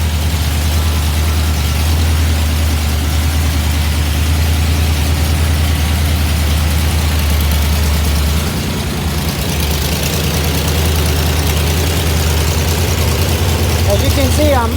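A small block Chevy V8 fitted with an RV cam idles at a slightly raised speed while warming up, giving a loud, close, steady low rumble with a lumpy, pulsing beat, and a voice talks faintly over it.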